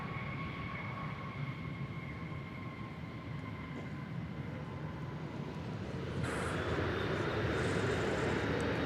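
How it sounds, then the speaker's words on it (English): An arriving Boeing 737-800 airliner from Mexico City at DFW airport, a faint distant engine drone with thin steady whining tones that builds into a broader hiss near the end. "Flight 1066 from Mexico City, a 737 Ocho Cientos."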